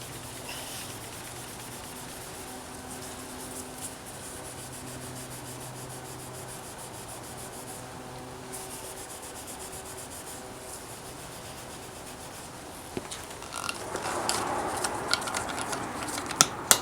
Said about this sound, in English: I'm going to continue with the application of the Howards on the side of these speakers.